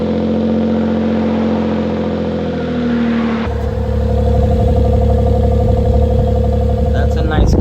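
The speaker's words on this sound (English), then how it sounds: "now let's start it up. Got the camera in the back so you guys can hear the exhaust." A starter cranks briefly, then a Suzuki Jimny JB23 engine cold-starts and settles into a loud, steady idle with a rumbling exhaust close by.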